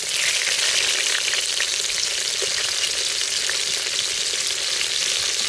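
Onions fry in hot oil with cumin and green chillies for a goat head curry, making a loud, continuous hiss of sizzling close by with no speech.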